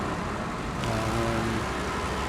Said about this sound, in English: this is about the loudest truck in the game